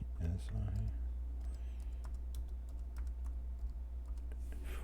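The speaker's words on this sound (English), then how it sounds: "let's type in 1 ounce, 1 OZSI" Rapid clicking of keys on a computer keyboard, a short quiet burst of typing over a low steady hum, with a voice heard briefly at the start.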